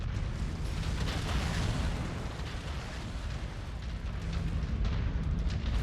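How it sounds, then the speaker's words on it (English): A stream of missiles fires off in the mech combat game Merc Life, making a continuous barrage of booming launches and rushing blasts over a heavy rumbling low end, with no voices. "Nice stream of missiles flying off."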